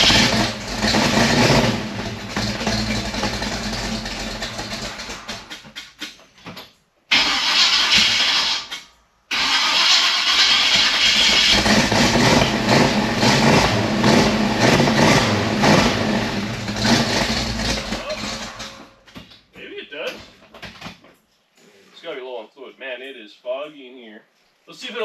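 A 1956 Chevy station wagon, long abandoned in a snow bank, cranks and catches, its engine running roughly and revving in bursts over several seconds before cutting out, with people talking nearby.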